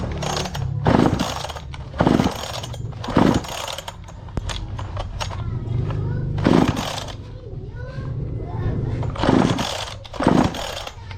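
An old Stihl chainsaw with a missing switch being tried for a start, a few repeated bursts of pull-start cranking and brief sputtering spaced through the clip, with someone talking between attempts.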